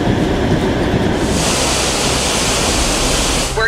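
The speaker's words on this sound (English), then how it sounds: "It's the sound of the river running through the bottom floor" Hurricane storm surge water rushes as a river through the bottom floor of a house, making a loud, steady, roaring wash that fills the whole clip without a break.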